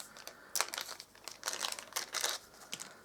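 Leatherette strands being cut for a bracelet, several soft close crinkly snips and rustles in irregular bursts, quiet with no talking.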